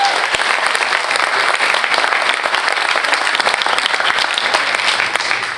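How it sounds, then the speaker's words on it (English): A town hall audience gives a steady, loud round of applause for the Aliso Canyon community advisory group members, dense continuous clapping throughout with no voices rising above it. "Please give them a round of applause."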